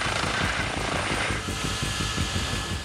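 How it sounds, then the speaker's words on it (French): SAMU medical helicopter at a French emergency rescue scene, a loud steady rotor thump with dense turbine whine, close and continuous throughout with no talk. "C'est l'hélicoptère du SAMU qui va s'en charger."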